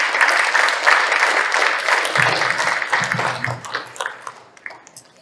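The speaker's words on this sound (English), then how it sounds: "please give us a round of applause for this esteemed panel" Audience at a 2023 unity dinner applauds a panel, a dense burst of clapping that thins and tapers off into scattered claps near the end.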